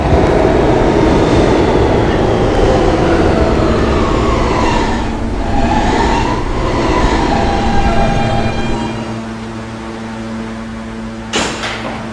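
R160 D subway train running in Roblox, a loud rumbling rail roar with rising and falling tones as it moves, then settling to a steadier hum with a sharp clank near the end.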